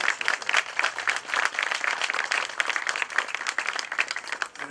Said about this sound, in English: If we get a round of applause for all of them.